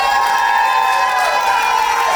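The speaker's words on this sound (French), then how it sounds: "Est-ce qu'on peut accompagner ça par des acclamations," Guests at a French wedding, cheering and acclaiming together in one continuous, loud wash of crowd voices with no pause.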